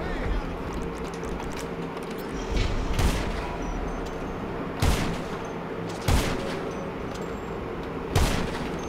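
Scattered gunshots from a player firing many weapons in GTA Online, a few distinct loud cracks spaced a second or two apart over a constant noisy game background.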